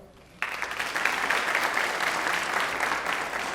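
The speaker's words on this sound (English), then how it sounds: "Let's give a round of applause to our three board members who could not be here this afternoon." Audience applause at a school district Educational Support Personnel of the Year ceremony, a steady dense clapping that starts abruptly after a brief quiet moment and holds evenly throughout.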